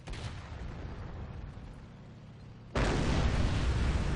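Artillery barrage in the World War II strategy game Company of Heroes: a low rumbling din of distant fire gives way abruptly to a loud, dense wall of blasts and crackling explosions.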